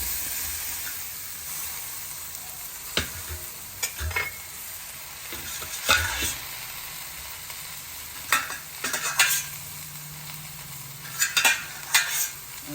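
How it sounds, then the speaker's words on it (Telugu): Boiled carrots frying with coriander powder in a pan, a steady close sizzle broken by intermittent scraping stirs and a few sharper clinks of the spoon against the metal. "ఇప్పుడు మనం ఉడకపెట్టుకున్న క్యారెట్స్ వేసేస్తున్నాం అనమాట"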